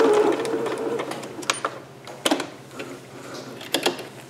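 Sewing machine backstitching fabric for a Vogue 8280 cap sleeve dress, giving short bursts of mechanical whirring and clicking with brief pauses between stitches, close and moderately loud.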